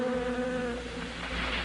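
Bees buzzing around beehives, a close, continuous droning hum with several overlapping tones that waver slightly, alone.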